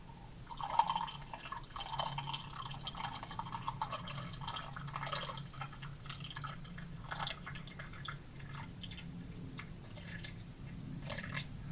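Water dripping and trickling as it is poured into a hot cup, a steady run of small liquid splashes and drips for several seconds in a quiet indoor room.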